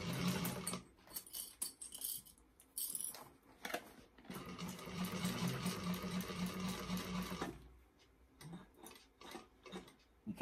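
A sewing machine stitches through a bag in bursts, its fast mechanical whir starting and stopping between pauses where the fabric is adjusted, with small clicks and handling noises in the gaps.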